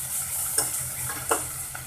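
Ginger-garlic paste frying in a pan for a prawn curry, a steady low sizzle with occasional scraping stirs of a spoon, fairly close and moderately quiet, with no voices.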